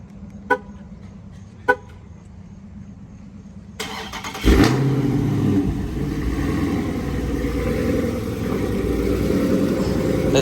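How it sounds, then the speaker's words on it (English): A new wide-body Dodge Challenger Scat Pack with a Corsa exhaust gives two short horn toots, then fires up and settles into a loud, rumbling idle that stays close and steady. "That shit sound mean as hell, dog. It's a Corsa exhaust on here."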